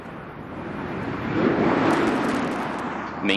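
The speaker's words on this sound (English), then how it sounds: "Main gear touchdown." Space Shuttle Discovery touching down on its main landing gear at the end of mission STS-133, heard as a loud, steady broad roar of rushing air and rolling noise that swells mid-clip, with a sharper knock near the end.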